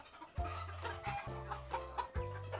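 Young chickens cluck on a chicken farm in Tây Ninh in several short, low bursts close by. The clucks come quickly one after another and no voices are heard.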